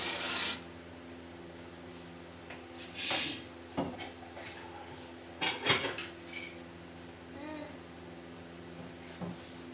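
Metal spoon scraping and clanking against a cooking pot while macaroni is stirred, scattered knocks and clinks at irregular intervals with a few louder strikes, close and fairly quiet, no voices.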